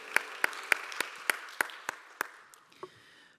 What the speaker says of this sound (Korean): 서로를 격려하면서 박수하겠습니다.